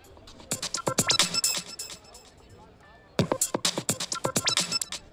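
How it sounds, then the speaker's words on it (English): A punchy electronic drum pattern from a Waldorf Largo synthesizer plays in two bursts of sharp, rapid hits separated by a short quiet gap. "is a drum beat that sounds a little like this."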